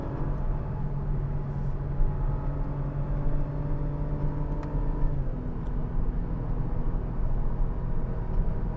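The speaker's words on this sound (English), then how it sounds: "There is a decent exhaust note underneath there, underneath a whine" An Acura TLX Type S engine holds at high revs near the redline with a steady, appliance-like whine over a low exhaust drone, close and continuous.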